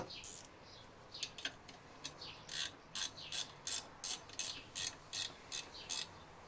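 A small wrench tightens a little screw while belts and an accessory pulley are being fitted, giving quiet, close ratcheting clicks in short bursts that grow more regular and evenly spaced toward the end.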